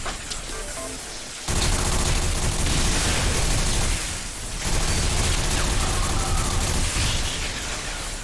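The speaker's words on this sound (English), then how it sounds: "What is shooting at me?" Rapid gunfire from the video game Bodycount rattles in dense bursts, with a short lull near the start and another brief dip midway, loud and continuous without speech.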